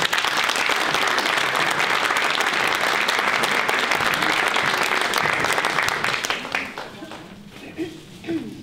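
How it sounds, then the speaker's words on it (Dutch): Applause at a royal honours ceremony in a hall in Helmond, a loud sustained crowd clapping that fills most of the clip, then thins and fades toward the end as a few claps linger. "Applaus."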